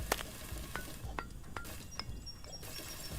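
An egg frying in the video game Egging On: a continuous sizzle with several sharp clinks and a brief crackling burst, close and steady over a few seconds.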